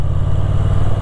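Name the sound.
Moto Guzzi V7 Sport motorcycle engine revving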